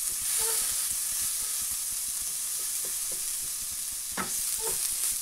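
Beef burger mince frying in a new cheap frying pan, giving a steady close sizzle with occasional scraping stirs and a clink near the end, alone without talk.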